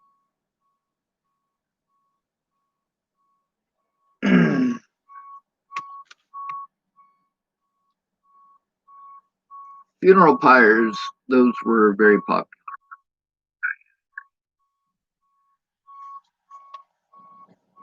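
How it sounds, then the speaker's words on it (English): A steady high-pitched truck reversing beep repeats at a regular rhythm in the background while someone speaks in scattered phrases. "Sorry about the beeping, and it's kind of distracting me."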